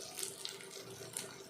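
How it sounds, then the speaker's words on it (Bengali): Water is poured into a pan of frying dal, a steady splashing stream with a few brief sizzling crackles, close and fairly quiet. "এখন একটু মাপ মতো জল দিয়ে দেবো আমি।"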